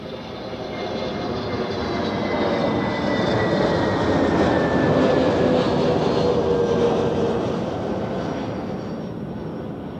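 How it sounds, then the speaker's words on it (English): Pegasus Airbus A320 from Istanbul landing at Zurich Airport: a loud jet engine roar that swells as the plane nears, peaks, then slowly fades, with a whining tone sliding downward, heard close and alone. "Next we have the Pegasus A320 from Istanbul. We had the A320neo earlier and now the longer version."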